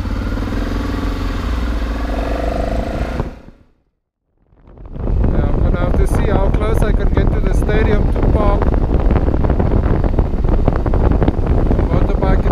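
Wind roars over a microphone as a motorcycle rides along near Loftus Versfeld stadium in Pretoria, rumbling steadily after a short gap; someone talks under the noise.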